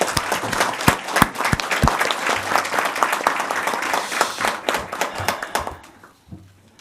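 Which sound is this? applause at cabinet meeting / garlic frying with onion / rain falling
applause at cabinet meeting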